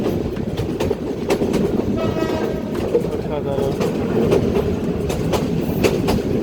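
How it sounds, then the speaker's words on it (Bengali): A train engine crosses from one track to another at Jamalpur railway station, its wheels clattering rhythmically over the points with a steady rumble and brief horn-like tones, while a voice speaks once briefly. "এই দেখেন কীভাবে ট্রেন ইঞ্জিন লাইন একটা থেকে আরেকটা চলে যায়"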